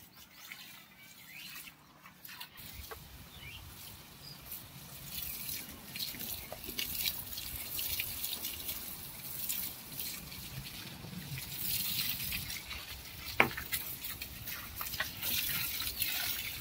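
Water trickles and drips steadily onto slaked lime being prepared for a fish pond, a soft continuous wet patter outdoors with faint birds in the background and no talking.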